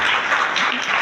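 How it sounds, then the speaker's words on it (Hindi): Brief burst of loud, dense applause from an audience at a teachers' federation gathering, a continuous close wash of clapping. "एक बार जोरदार तालियां बजा दीजिए उनके लिए"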